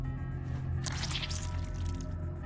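A brief wet squish as fish guts splatter in the video game The Fall, over a steady low ambient drone.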